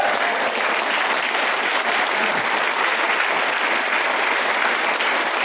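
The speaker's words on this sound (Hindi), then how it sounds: "एक बार जोरदार ताली" Loud, steady applause from an audience at a wellness training program, a dense wash of many hands clapping that runs without a break from start to finish, with no talking over it.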